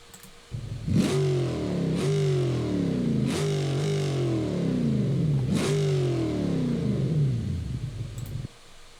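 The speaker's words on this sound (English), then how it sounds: "this also has a supercharged V8, which I'm going to turn up the volume and you'll hear it" A Bruckell Bastion's supercharged V8 starts and revs repeatedly, each blip rising into a throaty roar and falling back to a rumbling idle, four or five surges close and loud before it cuts off.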